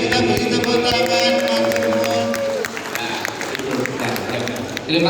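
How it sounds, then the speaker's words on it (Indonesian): Audience applause at a gathering, a dense steady patter of clapping with crowd murmur and cheering mixed in, loud and close throughout, with a voice talking over the start. "kita beri tepuk tangan"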